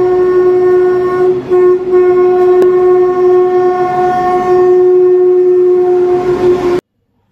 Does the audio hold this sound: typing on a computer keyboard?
no